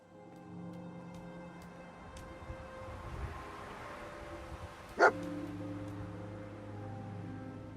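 A dog in the game Fallout 4 gives one sharp, brief bark that stands out over a steady low background hum.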